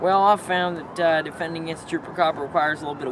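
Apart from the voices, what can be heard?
No everyday noise stands out behind the speech.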